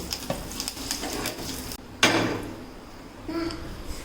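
Dried red chilies and curry leaves dropped into hot oil for dosa chutney, a soft steady sizzle that bursts into a louder crackling hiss midway, with faint kitchen clatter and a muffled voice in the background.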